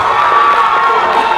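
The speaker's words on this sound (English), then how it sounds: "For Amari, let's cheer for Amari." A school audience at a freshman poetry slam cheers and whoops for a poet, a brief loud burst of mixed young voices shouting together, close and dense.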